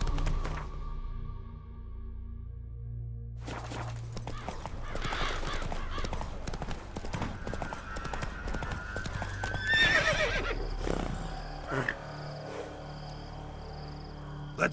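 Roach, a horse in The Witcher 3, gallops with quick, rhythmic hoofbeats clip-clopping close by, punctuated by a loud whinny near the middle, over a quiet game soundscape.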